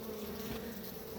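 Honey bees buzz in a steady, dense drone around an opened hive, a continuous close swarm hum with no talk over it.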